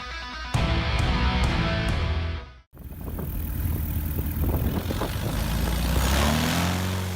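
A light propeller aircraft climbs nearly vertically on takeoff, its engine and propeller a loud, close, continuous drone, broken once by a short gap before the roar resumes.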